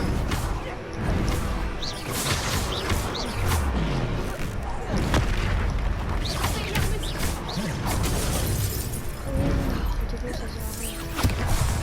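Explosion spell cast in the video game Hogwarts Legacy during a troll fight, loud crashing blasts and whooshes layered with dense battle effects and music while a voice talks over them.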